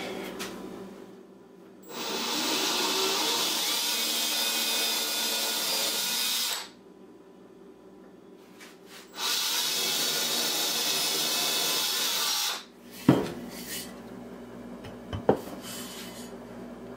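A power drill drives 3/4 inch number 8 screws into a one-inch-thick live edge wood slab, with two long, steady whirring runs separated by a pause, then a few sharp clicks and knocks close by.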